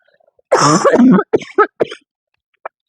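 A short burst of throat-clearing coughs, close and fairly loud, followed by a few smaller hacks and a faint click, then quiet.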